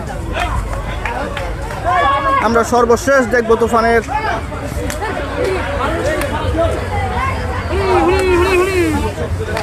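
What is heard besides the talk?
crowd of people gathering to see the bull Tufan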